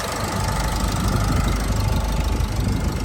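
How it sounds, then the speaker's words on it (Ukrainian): A Renault Koleos 2.0 dCi diesel engine idles with a steady clattering rhythm and a faint whine, recorded close with no talk. "Ось так чітко працює двигун."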